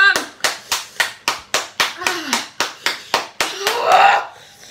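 A dozen sharp hand claps in a steady rhythm, loud and close, with a voice and other voices underneath and a brief breathy cry near the end.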